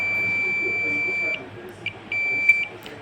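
A multimeter's continuity buzzer gives a steady high beep while its probes touch a capacitor on a Samsung S23 Ultra phone board. The tone cuts out briefly and then sounds again, close and clear, with a few small clicks.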